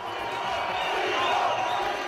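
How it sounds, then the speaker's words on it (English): At a Steve-O live comedy show, a big audience of about 1,900 people lets out a continuous, diffuse roar. The crowd noise holds steady with no clear breaks or single voices. "Your mic can pick up fucking roaring of the crowd."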